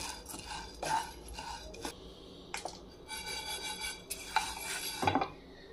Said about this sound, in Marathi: त्याला आपण थोडंसं रोस्ट करून घेऊ, म्हणजे त्याच्यात थोडंफार ते पण मॉइश्चर असेल तरी निघून जाईल।